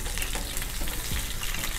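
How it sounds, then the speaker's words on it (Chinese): Close-up, steady sizzling crackle of cod pan-frying alongside garlic and lettuce stem, dense and continuous for a short stretch with no talking. "稍微再煎一下就可以了"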